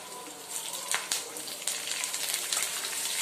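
Tempering of seasonings frying in hot oil before curry leaves go in, for a semiya bath, a bright steady crackling sizzle with a few sharper pops, close and continuous.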